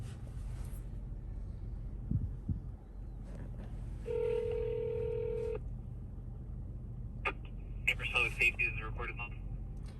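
A telephone dials out: a short run of keypad DTMF tones, then a second quicker burst of tones, faint over quiet room noise.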